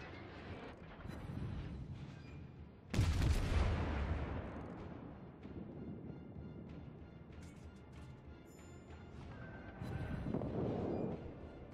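Warship naval guns in the World of Warships game, with a heavy, booming salvo at about three seconds that rolls off into a long rumble, then fainter distant shots and a second rumbling swell near the end.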